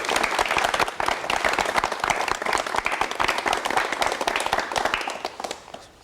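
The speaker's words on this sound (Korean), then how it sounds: "여러분 박수로 환영해 주시기 바랍니다." A studio audience at a 1989 Korean television talk show claps continuously, dense and even applause that fades slightly at the end.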